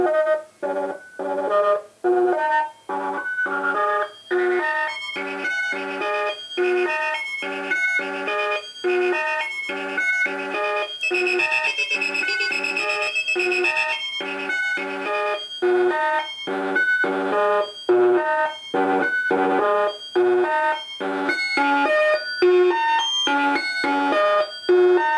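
A Befaco Pony VCF eurorack filter module, built from a kit, processes bright, rapid sequenced synth notes in a fast pulsing pattern that runs steadily for about 25 seconds.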